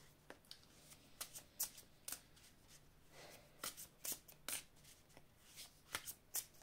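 A tarot card is drawn from the deck, heard up close as a quiet run of crisp shuffling and flicking card sounds in irregular bursts, with no voice over them.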